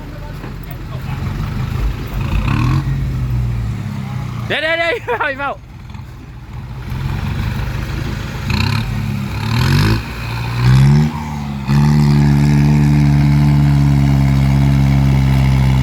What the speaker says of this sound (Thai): รถไถดึงครับ